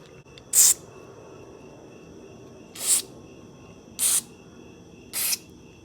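Four short bursts of aerosol cleaner hissing from a can onto a BMW mass air flow sensor, spaced unevenly, close by against a quiet background.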